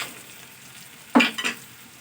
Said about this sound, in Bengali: বড়ি আলু বেগুন একটু নাড়াচাড়া করে নিই